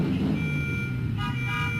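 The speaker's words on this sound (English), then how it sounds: "I can hear your car." A car idles and moves near a street crossing, a steady close engine rumble with a thin tonal beep layered over it, and no speech.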